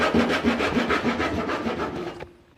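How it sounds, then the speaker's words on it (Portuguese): Hand saw cutting wood along a marked line in a workshop, steady rasping back-and-forth strokes at close range that continue for about two seconds and then stop. "eu vou com ela aqui, eu vou serrando aqui"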